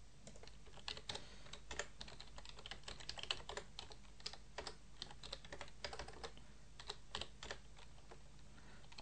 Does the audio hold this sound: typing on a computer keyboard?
yes